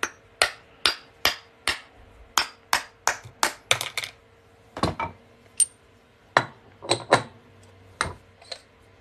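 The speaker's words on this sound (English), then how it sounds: "I'm just gonna knock this off of here with a plastic hammer." A plastic hammer knocks a punched silver Tennessee quarter coin ring off a metal punch, producing a series of sharp taps, about a dozen in quick steady rhythm, then more scattered after short pauses.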